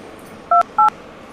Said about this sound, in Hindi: आप जल्दी से 108 नंबर पर फोन मिला के एम्बुलेंस बुलाइए